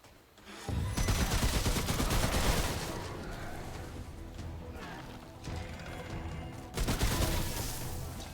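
Sustained, rapid gunfire from the video game Remnant, with dense bursts of shots that run almost the whole time and swell again toward the end.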